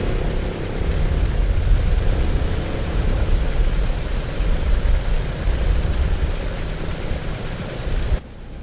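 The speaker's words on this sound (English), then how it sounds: "you start engine 3 first because that's the engine that actually controls the internal power to the aircraft" A four-engine aircraft's engine spins up during startup in Microsoft Flight Simulator 2020, a steady droning propeller and engine rumble holding for about eight seconds before cutting off abruptly.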